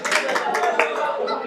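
An audience at a live comedy stress-buster show in Chikkaballapura claps in a quick run of overlapping hand claps, close and lively, with voices chattering and calling out underneath.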